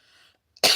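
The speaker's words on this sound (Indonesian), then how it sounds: "Bunda masih ada batuk ya" A woman coughs once, close and loud, after a moment of faint background hum and near silence.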